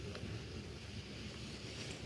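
Sea waves wash onto a beach at Soli in Mersin, Turkey, under steady gusting wind that rumbles against the microphone, a continuous surf roar with no voices.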